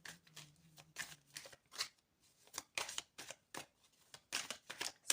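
Tarot cards being shuffled and drawn, heard as soft, quick riffling bursts and brushing card slides in irregular clusters, close and fairly quiet, with no talk.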